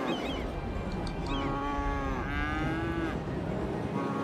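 Game cattle in Cities: Skylines moo in long, overlapping drawn-out lows, several calls layered together like a nearby herd, loud and continuous with no talk.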